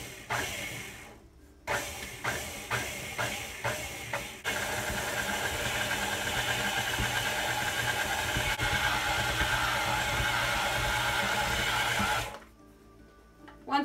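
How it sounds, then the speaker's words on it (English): An electric stand mixer beats American buttercream icing at high speed, giving a steady loud whirring drone for about eight seconds after a few short pulsed bursts, then cutting off. "I pulse it until it gets incorporated, and then I turn it on to mix on a higher speed"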